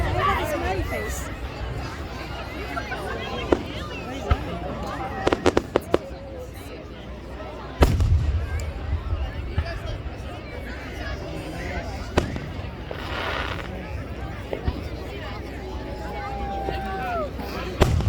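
Independence Day fireworks on July 4th in Manlius, with sharp booms and crackling bursts at scattered intervals, one heavy nearby blast and a whistling rocket, under constant crowd chatter and nearby voices.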